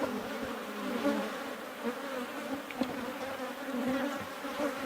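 Honeybees crowd a brood frame in an open beehive, producing a dense, continuous buzzing hum that fills the air up close, steady with small swells, and no voices.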